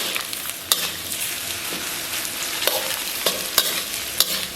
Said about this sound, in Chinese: 咱们把火腿肠和胡萝卜下里边， 简单煸炒以后啊，咱们把洋葱给它下里边